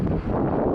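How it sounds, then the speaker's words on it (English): Wind gusts buffet the microphone outdoors on a street, a loud, steady low rumble of blustery noise filling the whole moment with no break. "it's windy out here, so it might not sound that great sometimes"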